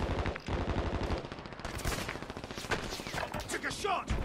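Rapid bursts of gunfire in the video game Warzone, crackling shots and automatic fire layered over busy game sound, loud and close with some distant pops, no talk.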